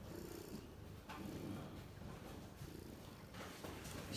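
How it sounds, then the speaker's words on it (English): A barn cat purring close by, a low steady rumble with soft breathy pulses and a few faint rustles, no voices. "And no video would be complete without one of the lovely barn kitties."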